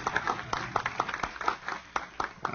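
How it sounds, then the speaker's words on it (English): Scattered clapping from an audience at the Philadelphia Mummers Parade art contest, honoring young participants; sparse, irregular claps at moderate distance with faint voices underneath. "Can we give them a big, big round of applause?"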